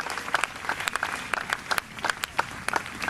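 Congregation at an evangelical prayer-march campaign applauding in a steady patter of scattered claps, moderately distant and fairly faint, with no speech over it.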